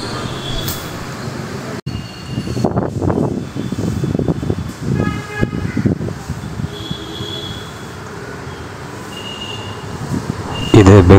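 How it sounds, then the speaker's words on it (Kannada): At Malleshwaram station, the daily Bengaluru–Tumakuru passenger MEMU train arrives with a moderate rumble and wheel noise under ambient platform sound, and a person talks over it at intervals. "ಈಗ ಬರ್ತಾ ಇರೋ ಟ್ರೈನ್ ಬಂದು ಪ್ಯಾಸೆಂಜರ್ ಟ್ರೈನು"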